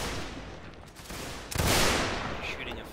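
Gunfire in a video game aimed at a flag: a loud burst of shots kicks in midway, a dense crackling volley over steady background battle noise, with faint talk nearby.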